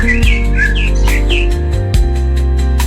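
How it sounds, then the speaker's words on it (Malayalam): Several birds chirp and tweet in quick, bright bursts over a steady low hum, fairly close and clear throughout. "കുറച്ച് കിളികളൊക്കെ കരയുന്നുണ്ട് കേട്ടോ"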